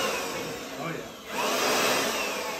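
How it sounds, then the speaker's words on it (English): A small ALLOYMAN cordless mini blower and vacuum runs with a loud, steady electric whir and airy rush, dipping briefly at the midpoint before surging back stronger and holding. "the blower is way stronger than the vacuum portion of this"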